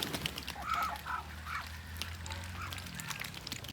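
A flock of farm ducks forages for worms on rain-soaked ground, giving scattered quacks and honking calls over a low background hum, with someone talking quietly in between.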